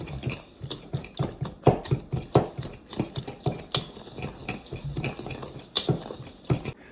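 A spoon works brown sugar into Jamaican cornmeal pudding ingredients in a bowl, giving a steady run of close, soft knocks and scrapes in a quick, uneven rhythm.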